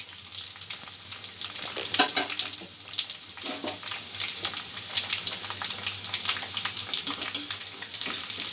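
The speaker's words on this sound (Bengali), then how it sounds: "3-4 মিনিট ধরে এইভাবে সমানে নাড়িয়ে যেতে হবে।" Crispy noodles frying in hot oil while being stirred steadily, giving a continuous close crackling sizzle with scraping stir noises throughout.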